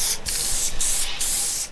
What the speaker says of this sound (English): So just take the weld through primer, spray it on there.